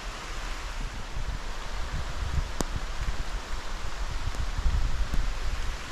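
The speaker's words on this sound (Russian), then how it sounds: "шорох воды, капающей и бьющей по траве и по веткам деревьев" Steady soft patter and rustle of rainwater dripping onto grass and tree branches in a forest beside a stream, continuous and close, with a few sharper drips standing out.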